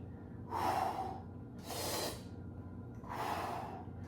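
Heavy breathing during an upper-body dumbbell workout: three loud, breathy exhales or gasps, each about a second long, spaced roughly a second apart and heard close up over a low background hum.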